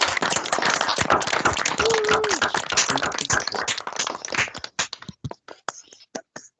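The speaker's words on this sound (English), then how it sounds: "Could we first give him a round of applause" A few people clap for a teaching assistant at a university aerospace vehicle design capstone final presentation. Sparse, separate claps follow a stretch of murmured talk and rustling, close and moderately loud.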